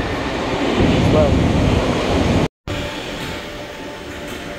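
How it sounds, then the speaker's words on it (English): A New Brighton train waits to depart from a platform in Southport, giving off a steady loud rumble and hum of the idling train. The sound cuts out briefly partway through, then returns as a quieter drone. "there about to go is the new Brighton train"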